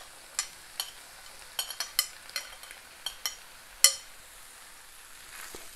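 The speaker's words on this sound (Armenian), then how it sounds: "Թողնում ենք, որպեսզի մի 2 րոպի բովի։" Soaked, boiled chickpeas fry in a pan, with a soft sizzle beneath a series of sharp, irregular clicks and scrapes as a utensil stirs them, close and fairly quiet.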